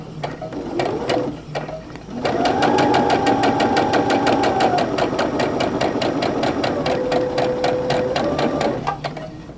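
A sewing machine stitches quilt pieces for a half-square-triangle quilt in a close, rapid, rhythmic run of needle strikes, building after a brief start and continuing steadily for several seconds.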